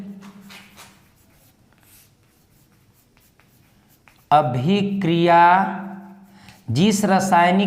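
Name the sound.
writing on a board during a chemistry lesson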